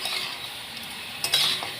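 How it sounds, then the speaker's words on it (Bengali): Chicken pieces frying with onions in a pan, a brief soft sizzle with a few scraping stirs of a spoon, close and fairly quiet. "এবার এর মধ্যে তুলে দেবো চিকেনগুলো। এটাকে ভালো করে নেড়ে চেড়ে ভেজে নেব।"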